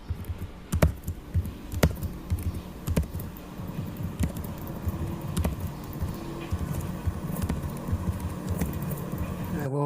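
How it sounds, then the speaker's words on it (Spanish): A synthesized sound made in SuperCollider is heard as sparse sharp clicks and percussive ticks over a low, murmuring textured bed, moderately quiet and irregular, with no talking over it. "Yo genero un sintetizador para cada uno de los sonidos"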